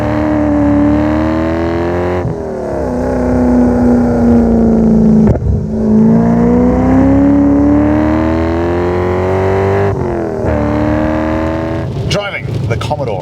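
Holden VY Commodore Clubsport R8 V8 on the move, a loud steady engine drone rising and falling through gear changes with brief throttle lifts, heard from inside the car.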